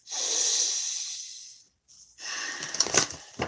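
A person breathing close by: a long drawn inhale, a brief pause, then a breathy, slightly snorting exhale with a few small nasal catches.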